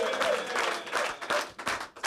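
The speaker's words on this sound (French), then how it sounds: "on s'applaudit encore plus fort" A studio audience claps steadily for the Grenoble Brûleurs de Loups hockey title, a dense, fairly soft patter of applause that thins into a few separate claps near the end.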